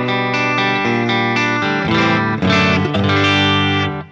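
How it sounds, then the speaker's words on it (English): A 64 XT Danelectro electric guitar plays chords and notes through a Whimsy Machines Short Stack JFET booster pedal into a JTM45 amp, driven and slightly gritty, with reverb trailing behind each strum, loud and close. "my favourite guitar of the week, which is the 64 XT Danelectro into the classic platform of the JTM45"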